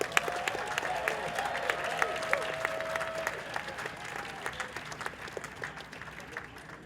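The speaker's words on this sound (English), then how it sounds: "let's give them all a nice, loud round of applause" Audience applause for a WIZO community bat mitzvah class of 2020, a steady round of many hands clapping that fills the hall, faint and even throughout with a brief tonal whistle or hum early on.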